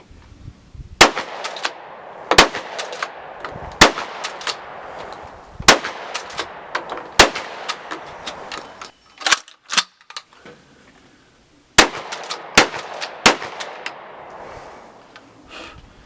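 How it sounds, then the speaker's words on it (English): A Remington Model 29 pump shotgun firing slugs and buckshot outdoors, a dozen loud sharp blasts spaced a second or two apart, with pump-action clacks between shots and no talk. "Today I have the Remington Model 29 pump shotgun out."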